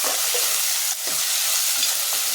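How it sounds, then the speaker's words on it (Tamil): Onions and tomatoes sautéing in oil in a pan on a gas stove for a Chettinad-style village fish curry, giving a steady, close broadband sizzle broken by a few soft stirring scrapes. "தக்காளியை போட்டுக்கேன் தக்காளியும் நல்லா வதங்கட்டும்"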